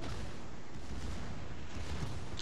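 Dense, continuous booming and rumbling of warship cannon fire in a video game, loud and sustained with no pauses.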